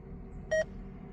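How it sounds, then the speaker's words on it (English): A radio scanner gives a single short, high-pitched electronic beep warning of a low battery, clear above a steady low outdoor hum. "my scanner has beeped like the batteries are dying for like 2 hours"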